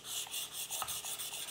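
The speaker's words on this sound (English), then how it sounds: "That's the sound of sharpening" Knife blade rubbed across a 2000 grit disc on a rolling sharpener, a steady raspy grinding with faint repeated strokes, close and continuous, with no talking.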